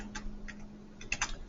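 Soft clicking keystrokes on a computer keyboard as an equation is typed into a graphing calculator, a few scattered taps with a steady low hum underneath.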